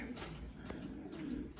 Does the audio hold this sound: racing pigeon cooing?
yes